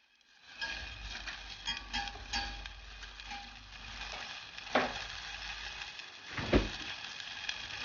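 Butter melts in a pan for a croque monsieur, a soft crackling sizzle with a few clicks and two sharper knocks of utensils, close and alone.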